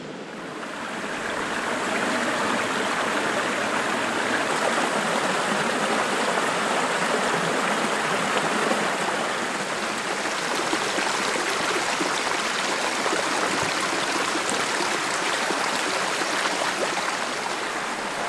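A creek flows through spring wilderness with a steady, full rush of water that rises in the first couple of seconds and then holds loud and even throughout, with no talking.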